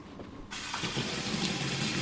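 Water gushing from a bathroom tap during a face rinse, switching on abruptly after a quiet moment into a steady splashing rush.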